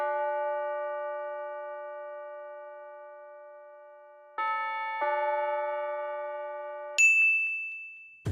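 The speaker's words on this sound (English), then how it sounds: "and this bell tone from Expand." A synthesized bell tone from the Expand plugin in FL Studio strikes a few clear, ringing notes, each fading slowly before the next. The last note is bright and high, and the sound is close with no talking.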